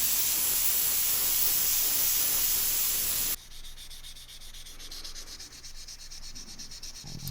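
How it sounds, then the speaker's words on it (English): Epoxy primer on an air pistol is sanded by hand, giving a close, steady scratchy rubbing hiss for a few seconds before it drops to a quieter, softer rasping. "Sanded down the primer just to smooth things out a bit before I moved on to the black paint."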